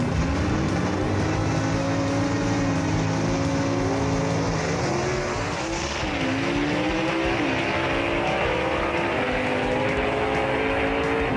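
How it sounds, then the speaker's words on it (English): A Barracuda and a Mustang gasser drag car rev loudly at a drag strip, engines droning and rising in pitch as they build, with steady close racing noise and no talk. "So the Barracuda versus the Mustang right here in the next pair getting ready to go."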